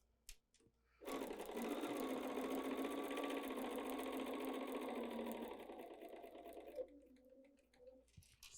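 Sewing machine stitching quilting fabric with a quarter-inch presser foot, a steady close whir running about six seconds, then stopping for a pivot at the corner before a brief softer burst.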